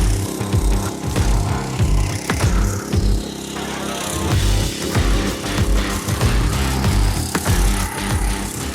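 Blackstone MHB 1500 rotary tiller (motozappa) with an oversized 212cc engine running steadily nearby, a loud, rough, continuous engine drone with uneven pulsing throughout and no talk.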